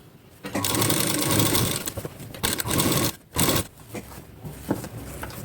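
A sewing machine runs loudly at close range, stitching a plain four-tuck blouse in several long bursts separated by short stops, with a clear mechanical whir.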